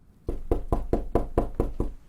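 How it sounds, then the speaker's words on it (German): In the video game This Is the Police 2, eight firm, evenly spaced knocks on a door fall in a quick steady rhythm, close and clear with no voices over them. "So toll an die Tür geklopft."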